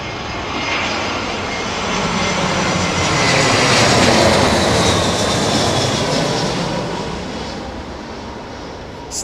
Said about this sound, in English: Aidan Campbell, she should bank right onto finals over Greenwich